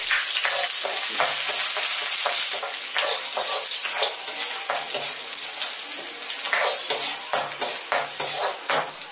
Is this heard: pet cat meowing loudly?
no